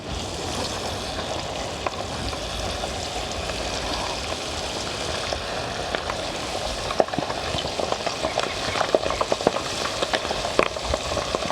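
Chicken skin frying in hot, splattering oil for homemade chicken crackling, a steady loud sizzle with sharp pops and spits of grease throughout, no talking.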